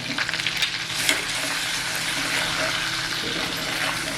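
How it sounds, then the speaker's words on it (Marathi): Whole spice masala frying in a little oil left from prawns, for a restaurant-style kolambi masala; a steady, fairly loud sizzle with a few stirring scrapes near the start. "मसाला छान एकदम तेलात असा परतल्या गेलाय"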